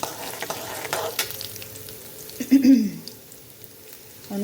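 Fenugreek seeds frying in hot oil for potato masala, a close, crackling sizzle with stirring and a louder scrape midway, no voices.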